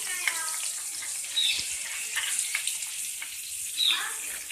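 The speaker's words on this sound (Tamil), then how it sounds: "பட்டர் நல்லா உருகுது. இது கூட நம்ம இப்போ வெட்டி வச்ச வெங்காயத்தை சேர்க்க போகிறோம்" Chopped onion goes into melted butter in a pan for Indian-style macaroni, producing a soft, fairly quiet sizzle with a few light utensil clinks and scrapes.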